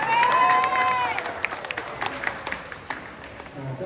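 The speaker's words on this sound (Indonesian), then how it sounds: "Tepuk tangan toh." An audience at a teachers' gathering claps in a burst that thins into scattered individual claps, moderately loud, with a voice briefly heard at the start.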